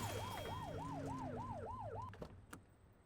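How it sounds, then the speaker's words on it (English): A police car siren from the video game The Precinct wails in a rapid, repeated up-and-down sweep for about two seconds, loud and close, then cuts off, leaving a faint engine hum and a couple of soft knocks. "Get on their tail and flip the siren."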